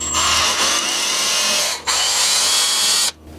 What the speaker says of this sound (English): I'm going to drill a 1/8-inch pilot hole. And this is steel.